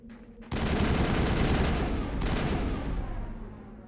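Mako tank cannon fire against turrets in Mass Effect 1 on the Moon, a loud sustained burst of heavy blasts and rumbling booms that starts abruptly and rolls on, fading slightly at the end.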